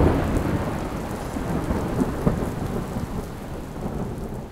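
Heavy monsoon rain lashes a city in India, a thick continuous roar of downpour with deep rolling thunder swelling underneath, loud and close, fading slightly toward the end.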